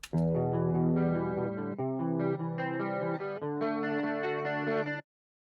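Squier Stratocaster electric guitar with Alnico 5 pickups, played through an amp with effects: a loud, sustained run of strummed chords with a chorus-like shimmer and slight drive, played alone for about five seconds before stopping abruptly.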